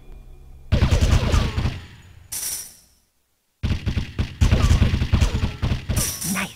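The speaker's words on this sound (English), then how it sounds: "press the fire button to fire your primary weapon" Primary weapon fire in the PS2 game Biker Mice from Mars, two loud bursts of rapid gunfire separated by a short pause, layered over game effects and background music.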